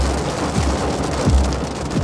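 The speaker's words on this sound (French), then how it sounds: "et puis la pluie finit par nous gagner en soirée" Steady rain falling during a storm chase in Tornado Alley, a dense, constant hiss with low rumbling wind buffets on the microphone, fairly loud and continuous, with no voices.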